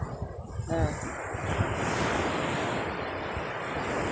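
Wind and surf on a Thai beach during the windy monsoon season, a steady broad roar of breaking waves and gusting wind buffeting the microphone, with a brief faint voice near the start.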